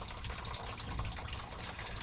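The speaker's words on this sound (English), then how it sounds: "So just draining the radiator now." Water drains from a truck radiator in a continuous, even gushing and splashing stream, faint and steady throughout with no talking.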